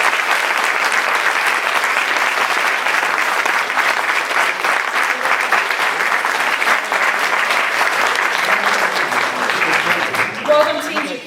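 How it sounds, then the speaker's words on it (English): A school debate audience gives a big round of applause, dense steady clapping for about eleven seconds that thins out at the end as a voice begins. "Big round of applause."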